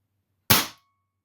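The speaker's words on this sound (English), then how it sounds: "as it's CO2, you get quite a healthy report" A Feinwerkbau Model 2 .177 CO2 target air pistol fires a single shot: one sharp, loud crack that decays quickly into silence.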